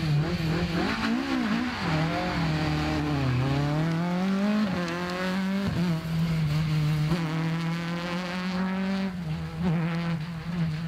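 A Mark II rally car, car number 37, races through Stage 5 of a 2024 rally event. The engine note is loud and close, rising and falling through gear changes and revs with no talk over it.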